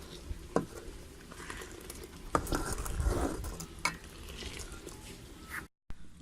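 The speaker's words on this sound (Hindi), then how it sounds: "उस वक्त तक हम इस तरह चम्मच इसका हिलाते रहेंगे" A spoon stirs custard milk in a pot, making soft swishing and scraping with a few sharp clicks against the metal, moderately faint, followed by a brief silence near the end.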